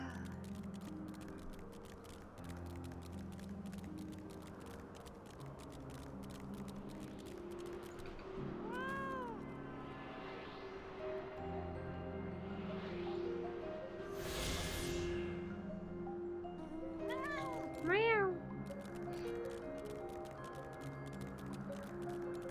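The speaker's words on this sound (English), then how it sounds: "Can't help you with your little flying bat cat." A small flying bat-like cat creature in Final Fantasy XIV meows a few times over game music and ambience, with a brief swooshing effect between the calls, no talking.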